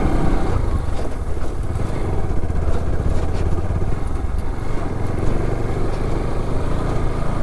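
An off-road motorcycle engine pulls along a rough mountain track near Vattavada, giving a steady, loud, deep thumping drone close by that continues throughout with no talking.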